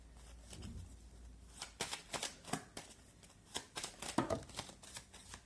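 A deck of tarot cards being shuffled up close, with a run of quick riffling bursts and soft slaps that repeat in an uneven rhythm and no voices.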